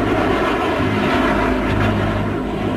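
An A-12 spy plane, a Mach 3 reconnaissance jet tested at the Groom Lake facility, flies past with a loud, steady engine drone and a sustained low hum throughout, no voices.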